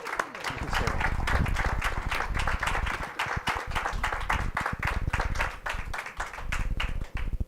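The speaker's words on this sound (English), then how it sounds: "That's like the longest applause break anybody's ever got on this show." Long, sustained applause from a studio audience at a live variety show, dense and steady clapping that fills the whole stretch with a few louder bursts and scattered whoops.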